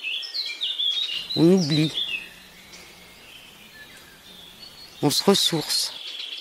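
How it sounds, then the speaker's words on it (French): Birds chirping and singing in a garden, scattered bright calls near and far over a quiet background, with a person speaking softly between them. "on n'entend que les oiseaux"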